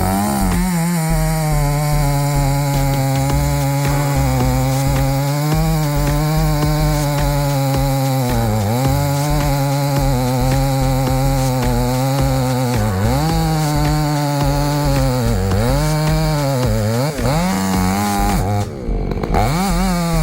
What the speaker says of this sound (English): The roar of the chainsaw was answered by the sharp crack of wood.